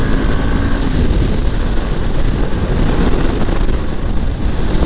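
Honda CB500X motorcycle ridden fast on a road, a steady loud roar of engine and wind rushing past the microphone, continuous with no pauses.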